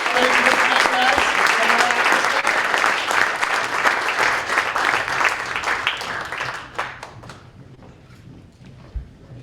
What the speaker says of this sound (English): one last round of applause for this crowd